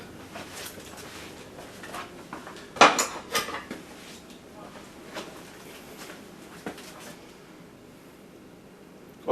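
A spoon pulled from a cutlery drawer in a home kitchen, with a sharp metallic clatter of silverware and dishes clinking a few times early on, then quieter small rattles and taps.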